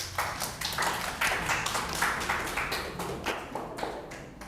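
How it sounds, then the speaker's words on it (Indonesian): A classroom audience claps for a student group in a Catholic religious education lesson, a dense run of quick, sharp hand claps that holds at a steady level for several seconds before thinning slightly at the end. "Tepuk tangan untuk kelompok 2, silakan kembali."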